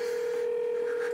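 A telephone tone sounds while calling someone, a steady unbroken pitched tone held throughout at moderate level with faint background hiss.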